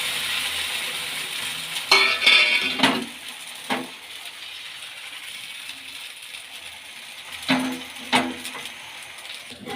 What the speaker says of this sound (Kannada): ಹಿಟ್ಟನ್ನ ಕಲ್ತ್ಕೊಂಡು ಸೌಟಲ್ಲಿ ಸುತ್ತಲೂ ತೆಳ್ಳಗೆ ಈ ರೀತಿ ಹಾಕ್ಕೊಳ್ಳೋಣ